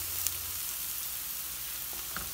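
Chicken bread filling with black pepper sizzles steadily in a hot pan as it is stirred, a constant close frying hiss with a few faint scrapes, and nobody speaks.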